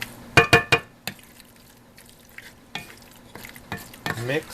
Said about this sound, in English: Now all I need to do is mix